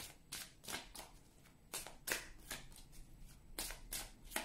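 Oracle cards shuffled by hand close up, a series of brisk riffling bursts in an uneven rhythm with short gaps between them.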